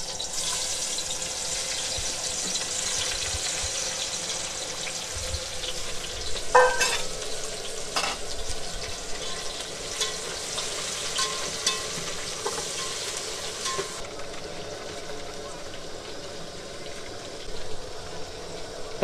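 Onions fry in a pot for an Odia-style potato chicken curry, giving a steady close sizzle with occasional clinks of stirring and no talk.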